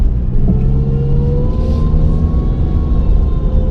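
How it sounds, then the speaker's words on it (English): A car driving with an abnormal, high-pitched engine whine that slowly rises in pitch above a steady, loud road rumble, with no talking. "My car should not be making that high of a noise."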